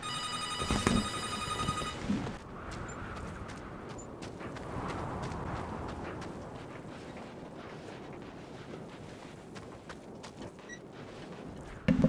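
Telephone bell ringing loudly in a brief burst near the start, heard during a road trip, followed by a vehicle's steady road noise and rumble carrying on alone.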